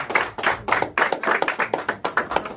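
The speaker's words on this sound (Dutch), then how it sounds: "een applaus voor DP" Rhythmic clapping for a contestant at a talent show, a run of sharp, evenly spaced claps from a small group, close and loud.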